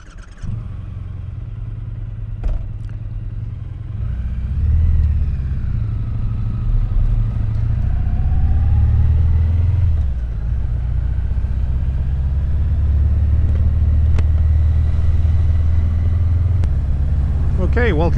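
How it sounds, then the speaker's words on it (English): Triumph Bonneville T120 motorcycle engine and exhaust while riding, a steady low rumble that swells after a few seconds and holds close and loud throughout, with wind noise and no speech. "I've also put an extra mic in the back of the bike just to pick up the noise of the Bonneville."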